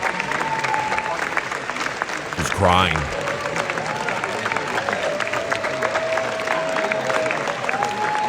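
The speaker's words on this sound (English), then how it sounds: "a 15-minute standing ovation for his new movie, The Smashing Machine" Sustained crowd applause from a standing ovation at the Venice premiere of The Smashing Machine, a dense unbroken wash of clapping throughout with a brief surge of cheering, while a voice speaks over it.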